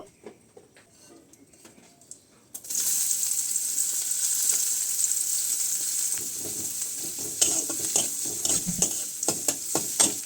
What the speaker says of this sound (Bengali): পেঁয়াজটাকে ভালো করে ভেজে নিলাম